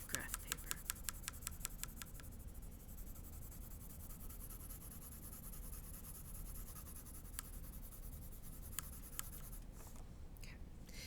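Marker coloring on graph paper: a quick run of rhythmic scratchy strokes at the start, then continuous soft rubbing and scribbling close by at low level, with occasional sharper tapping strokes near the end.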